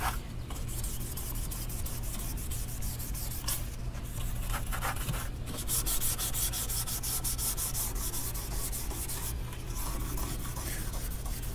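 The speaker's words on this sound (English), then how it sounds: "You just scuffing it up, putting scratches in it." Sandpaper scuffs a car body panel ahead of painting, a continuous close rasping rub with rhythmic back-and-forth strokes that occasionally pause.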